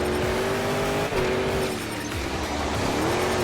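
Monster Jam monster trucks racing, their engines revving in a continuous loud roar with rising and falling pitch as throttle changes, mixed with a broad crowd-arena wash and brief dips.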